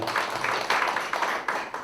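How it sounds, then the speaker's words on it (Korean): Dense audience applause at a signing ceremony for a joint infectious disease response agreement between three cities, steady overlapping claps filling the room without pause. "박수 부탁드리겠습니다"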